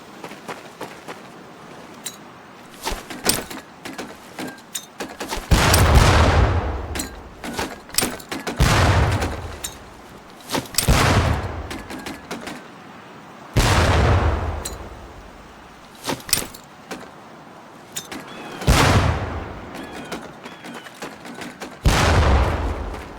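Training grenades exploding in Medal of Honor: Pacific Assault: a series of about seven loud, booming blasts spaced a few seconds apart, each trailing off into a rumble, with quieter clicks and thuds in between.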